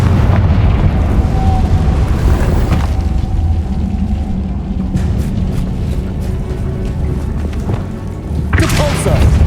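A Confringo fire spell in Hogwarts Legacy erupts in a heavy, sustained rumbling explosion, loud and dense, with crackling debris and another burst toward the end over continuous battle noise.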